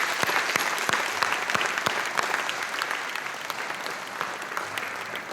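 A school assembly audience gives a steady round of applause for student participants, band members and ROTC performers at a Black History Month event. Dense clapping with sharp individual claps runs throughout.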